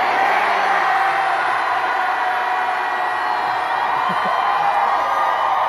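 A large concert crowd at a K-pop show in Atlanta screams and cheers in one loud, sustained roar with whoops and yells, filling the whole stretch without a break.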